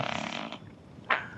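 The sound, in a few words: boy imitating fart noises with his mouth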